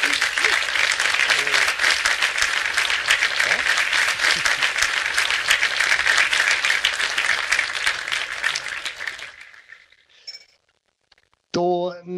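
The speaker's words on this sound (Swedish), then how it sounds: "Så jag har en applåd in i datorn." Recorded applause played back from a computer during a broadcast: dense, steady clapping with a few cheers that fades away after about nine seconds, followed by a brief stretch of silence and then a short burst of speech.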